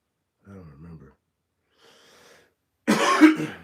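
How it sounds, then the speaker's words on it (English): A couple of soft throaty sounds are followed by one loud, harsh cough close to the listener, with silence between them. "Excuse my cough."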